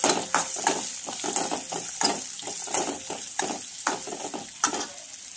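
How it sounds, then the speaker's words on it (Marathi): Finely chopped onion frying in a pan with spices, loud crackling sizzle with repeated scraping stir strokes in an uneven rhythm, close up and with no voices. "याच बरोबर घालायचं आहे आपल्याला बारीक चॉप केलेला कांदा आणि याला छान असं फ्राय करायचं आहे"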